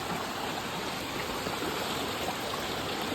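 Swollen floodwater flows in a stream after heavy rain, a steady, close, full rushing roar that continues without a break.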